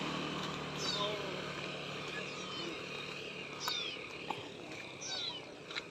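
A cat meows a few times at a distance outdoors in the morning, thin high calls rising over steady street noise and some nearby talking.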